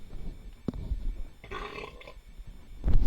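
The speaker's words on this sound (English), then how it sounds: "I don't want to burp in your ear." A drunk man lets out a low, rough burp close to the microphone, a short grunting belch in the middle of otherwise quiet room noise.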